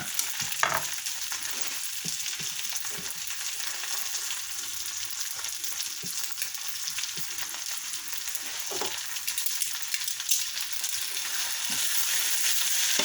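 Eggs and spinach frying together in a pan, a constant bright sizzle at close range with faint stirring taps now and then, steady throughout with no talk.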